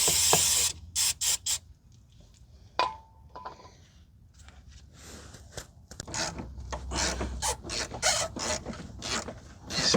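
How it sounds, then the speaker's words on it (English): Short bursts of hissing spray from an aerosol can of penetrating oil onto a rusty part of a 2011 Kia Forte, several quick sprays then a longer run, mixed with metallic clicks and handling noises. "Probably going to spray it down."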